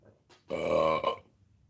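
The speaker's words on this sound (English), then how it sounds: "Another burp." A single short, loud burp lasts about half a second, with a small second gulp at its end, heard alone in a quiet room.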